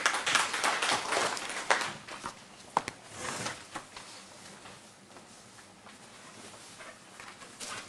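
Audience clapping welcomes Minhaj Youth League social media head Umer Qureshi to a training session, a burst of applause that is loudest early on and then thins to scattered claps.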